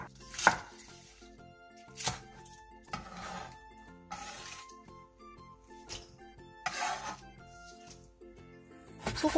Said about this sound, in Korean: 대파 2개를 길게 반으로 가른 뒤 5cm 정도 길이로 잘라주세요.